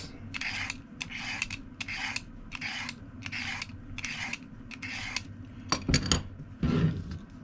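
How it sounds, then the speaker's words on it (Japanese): A vegetable peeler scrapes the skin off a carrot in a kitchen, giving a run of about nine even, rasping strokes in a steady rhythm, close and clear, followed by a couple of sharper knocks. "先にですね、ピーラーでこうやって皮むいてですね、"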